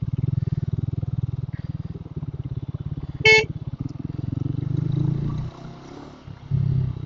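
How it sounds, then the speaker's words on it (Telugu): A Triumph Tracker 400 motorcycle engine runs steadily in peak-hour city traffic with a smooth, low throbbing idle and rev. A short car horn honks nearby partway through, and the engine note dips before rising again. "ఇంజన్ అయితే చాలా స్మూత్ ఉంది నా స్క్రాంబ్లర్తో కంపేర్ చేస్తే"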